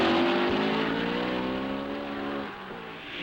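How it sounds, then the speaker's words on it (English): Ferrari Grand Prix cars of Hawthorne and Collins leading Fangio's Maserati through the south turn, a loud, steady multi-engine roar with slowly shifting pitch as the cars sweep past, dipping slightly near the end. "Into the south turn, the Ferraris of Hawthorne and Collins lead Fangio's Maserati."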